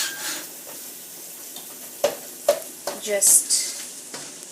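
Chopped tomatoes and other ingredients for achari chicken are sautéed in a pan over a high flame. A loud, bright sizzle runs throughout, joined by several clattering stirs and pan knocks toward the end, with a brief spoken word.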